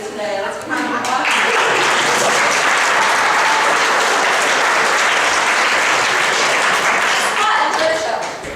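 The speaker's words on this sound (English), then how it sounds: "Let's give him a applause" An audience claps, and the applause swells quickly after a short voice, stays full and steady for several seconds, then begins to fade.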